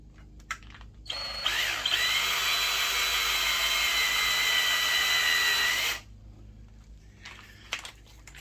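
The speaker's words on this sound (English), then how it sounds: "center drill it, and then drill it all the way through." A power drill whines steadily for about five seconds, a loud high grinding drone, drilling through metal, with quieter clicks and handling noises before and after.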